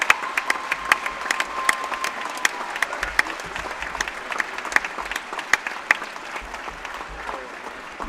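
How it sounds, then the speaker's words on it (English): Crowd applause fills a gym during an award ceremony at a varsity high school basketball doubleheader, Millard North vs Millard South. Dense, sustained clapping with sharp individual claps punches through a steady roar, with no clear talk over it. "One more round of applause."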